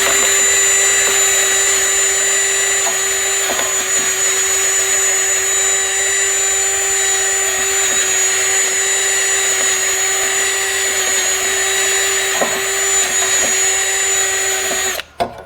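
A Dodge Journey brake caliper is cleaned off during a pad and rotor job, with a loud, steady, high-pitched power-tool whine running without a break before cutting out abruptly at the end.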